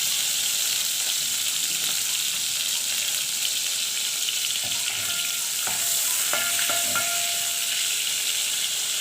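Spoonful of ghee with a little oil sizzling in a pan, a steady bright hiss with a few soft clicks and stirring scrapes near the end, no voices.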